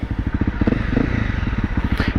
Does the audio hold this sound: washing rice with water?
no